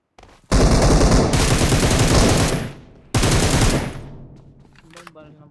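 Loud, sustained automatic gunfire in PUBG Mobile on the Erangel map: two long bursts of rapid shots with a short gap between them, then a fading tail.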